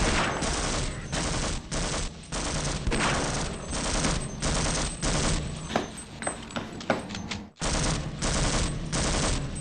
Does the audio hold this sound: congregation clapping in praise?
no